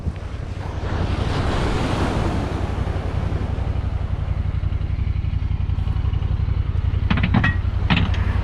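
Waves wash onto an Alaska beach in a continuous close roar, with heavy wind buffeting the microphone throughout and a few brief knocks near the end.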